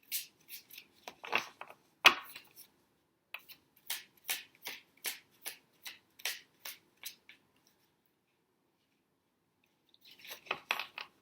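Tarot cards being shuffled in a quick run of crisp riffling flicks, a steady pulsing series with a short pause before another burst of shuffling; no talking.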